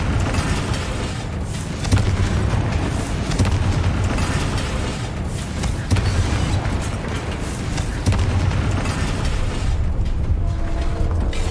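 Confringo explosion spell in the video game Hogwarts Legacy, a dense roar of booming blasts and rumbling debris with repeated heavier thuds every couple of seconds.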